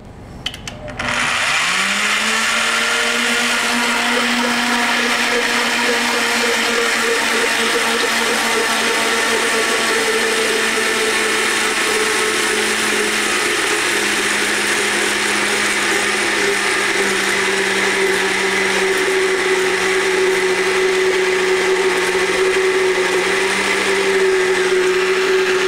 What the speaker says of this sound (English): with the blender running, I'm going to add the oil slowly to incorporate the oil into the vinegar